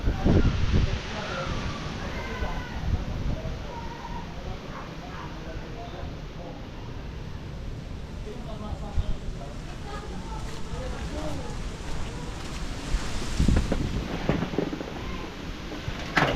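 Strong wind roars and buffets steadily, with loud low gusts at the start and again near the end, while people talk faintly underneath.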